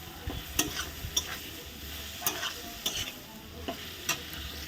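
Spice paste frying with soaked paneer and turmeric in a pan, a steady low sizzle broken by sharp scraping clicks of a spatula stirring at irregular intervals, close and moderately loud with no talking.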